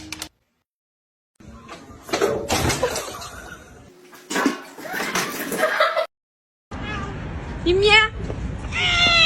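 Cats meow and yowl in bursts, fighting close by, with a sliding door knock and a person's voice calling out between the cries.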